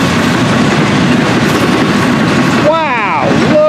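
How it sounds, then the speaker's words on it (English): A Florida East Coast freight train passes close by, its loud, steady rumble and clattering wheels filling the whole stretch. A voice breaks in briefly near the end. "Wow, look at this train go!"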